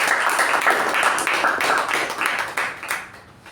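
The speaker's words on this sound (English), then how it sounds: "Let's give her a applause." A Toastmasters meeting audience claps for a speaker, a moderately loud, even patter of many hands that holds steady and then thins out toward the end.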